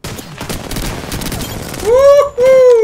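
Peacekeeper shotgun fire in Apex Legends, a rapid cluster of sharp loud blasts and crackling impacts up close, followed by a voice shouting loudly over the end of the gunfire.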